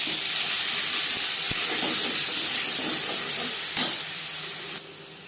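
Bay leaves, ginger paste and green chilli paste frying in hot oil, a steady close sizzle and hiss with faint stirring clinks, easing off near the end.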